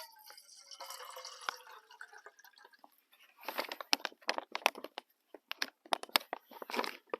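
Water poured into a collapsible bottle during outdoor stove cooking: a soft trickling stream at first, then a burst of irregular splashing, crinkling sounds as the bottle flexes and fills, fairly close and moderately loud.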